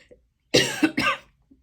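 A person coughs twice in quick succession, close and fairly loud, with a faint throat sound before and after in an otherwise quiet room.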